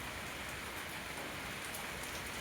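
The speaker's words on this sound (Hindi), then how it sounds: "बारिश तेज होने लगी" Heavy rain pours down steadily in a dense, continuous hiss with no voices, heard from inside a caged or grilled enclosure.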